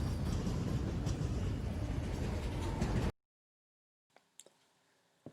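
A loud, continuous rumbling roar of a passing Norfolk Southern freight train cuts off abruptly into near silence, followed by a few faint clicks.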